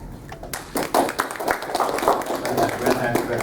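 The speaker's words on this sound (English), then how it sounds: "Let's give a round of applause to Ravindra again." Audience applause for a speaker at a Toastmasters District 83 conference, a dense patter of many hands clapping steadily close by for several seconds, with no clear voices above it.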